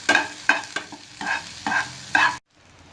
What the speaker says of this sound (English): Again, give them a stir. You can keep this in the pan for another 5 minutes.